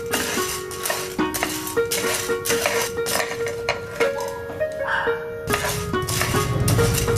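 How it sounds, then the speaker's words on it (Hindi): Dal roasting in a pan on medium flame while being stirred nonstop for mango pickle, with repeated metal spoon scrapes and clinks against the pan in a steady rhythm. "इसे भी हमें 1 मिनट के लिए भूनना है, लगातार हिलाते हुए"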